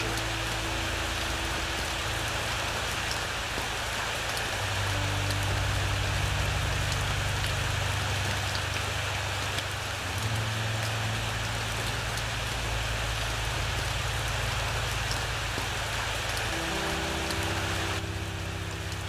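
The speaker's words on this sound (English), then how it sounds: "Oh, come on, it's just a little rain." Steady rain falling in the video game SR:MT, a constant hiss of drops on surfaces with a low rumbling bed underneath, even and unbroken throughout.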